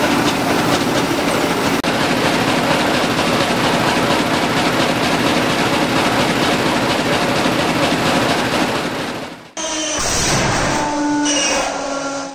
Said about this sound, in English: The 1929 Sulzer engine is worth listening to for its unique sound.